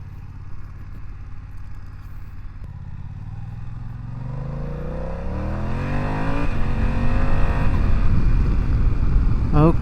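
A BMW F900XR motorcycle pulls away and accelerates, its engine note rising through the revs and growing louder over several seconds, with a faint clatter at the end.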